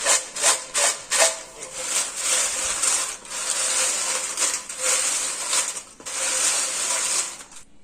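Crispy homemade potato wafers being tossed and mixed with spice masala, giving a steady dry rustling and crunching with irregular scraping bursts, close and fairly loud, no talking.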